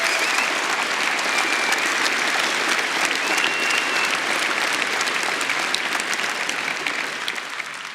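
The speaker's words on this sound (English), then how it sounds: "I'd appreciate if you'd all give them a round of applause for all the hard work they did to make this possible." Sustained audience applause fills a large keynote hall at a developer conference, steady and dense throughout, with no talk over it and a slight fade near the end.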